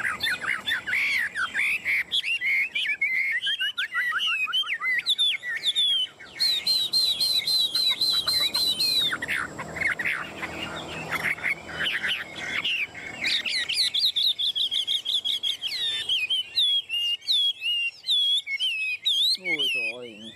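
A Chinese hwamei songbird, perched on a hand, sings close and loud with rich, rapidly varied whistles, trills and slurred phrases in near-continuous bursts, only briefly pausing.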